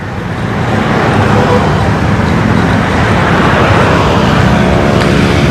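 Road traffic in Bogor, Indonesia, ahead of the 2020 long holiday: a loud, continuous roadway rumble of cars and other vehicles with no single pass standing out.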